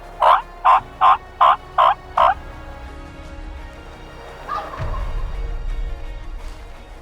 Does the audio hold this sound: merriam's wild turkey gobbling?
yes